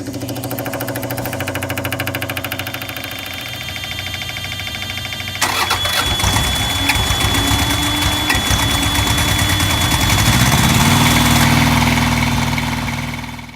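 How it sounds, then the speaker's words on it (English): An APU engine cranks over a steady primed hum, then catches at about five seconds into a louder, rougher, broadband roar that settles into a continuous close idle, with no talking. "When you fire up the APU, you should hear the fuel pump run and prime, and then the engine should start."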